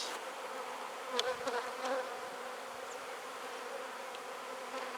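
Honeybees at active beehives make a constant, soft, dense buzzing swarm drone that holds steady throughout.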